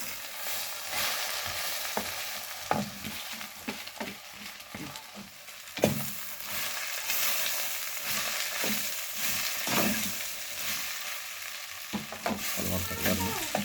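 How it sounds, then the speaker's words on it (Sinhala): A spoon scrapes and stirs through a jackfruit curry with jackfruit seeds frying in a pan, giving repeated close clacks and shuffles over a constant oily sizzle. "අපි මේ කොස් එකටම කලවම් කර ගන්නවා."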